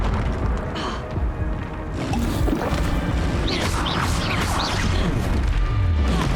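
Confringo blasting spell in the Hogwarts Legacy video game, heard as a dense, loud roar of crashing, booming impacts layered with game effects, continuous and close across the whole stretch.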